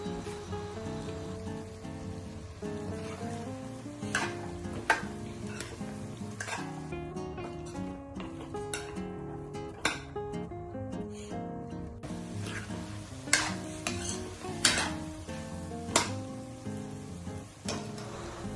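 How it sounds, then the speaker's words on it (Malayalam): Vegetables and cabbage being stir-fried in a pan for chicken fried rice give a steady sizzle with scattered sharp clinks and scrapes, all under a layer of background music. "പിന്നെ കാബേജും ചേർത്ത് നന്നായി മിക്സ് ചെയ്യാം."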